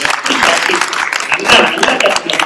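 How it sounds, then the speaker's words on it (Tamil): An audience at a Tamil pattimandram event in America claps and applauds for a Bharatanatyam dance teacher. The clapping is steady and crowd-wide under a voice talking. "அவங்களுக்கு ஒரு கைத்தட்டை கொடுங்க சார்"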